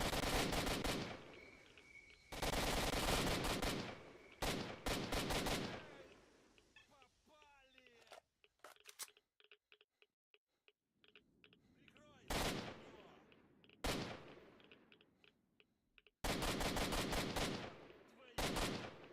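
Gunfire from the S.T.A.L.K.E.R. 2 video game: loud broadband bursts of automatic fire in several volleys, with quieter single shots and clicks in between, all heard in a fast, close firefight.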